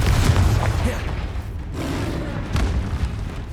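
A Bombarda spell explosion from the video game Hogwarts Legacy, booming in a dense, deep rumble with heavy low thuds that sustain throughout amid ongoing battle noise.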